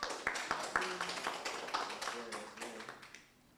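Audience clapping at a debate as a participant is introduced, with a few sharp claps standing out from scattered applause, mixed with voices and room noise, fading toward the end.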